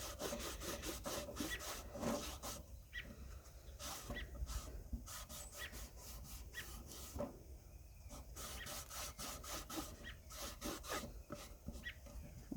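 A rag wipes sea paint stain off burned wood in repeated rubbing strokes, close and quiet, with a soft rasping texture and no speech.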